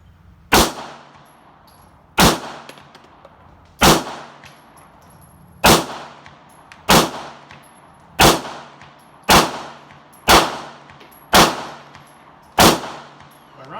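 A Beretta pistol fires about ten sharp, loud shots from a standing position at an even, unhurried pace, each crack ringing out briefly before the next.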